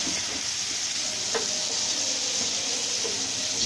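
Chicken fries in a pan with a steady, even sizzle and hiss that runs throughout, with a faint clink of a utensil partway through.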